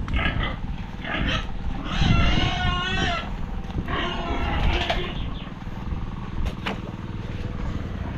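Pigs grunt and squeal in a pen, several overlapping animal calls rising in bursts over a steady background hum.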